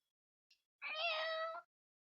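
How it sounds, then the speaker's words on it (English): A house cat gives one clear, close meow, drawn out for most of a second, with a faint short chirp just before it and silence around it. "The cat meows a few times as if trying to wake Emily up."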